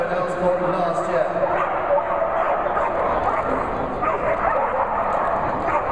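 A 4-year-old working sheepdog barks and yips during an agility run at the Olympia dog show, its calls mixed into steady crowd noise and an announcer's ongoing commentary.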